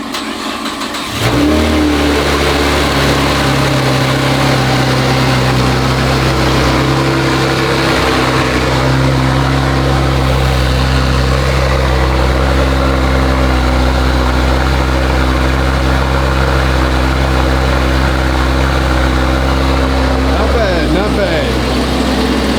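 A 2018 Camaro ZL1 with Kooks headers and AWE Tuning exhaust cold-starts with a sudden rumble, then settles into a steady, loud idle that runs on without a break.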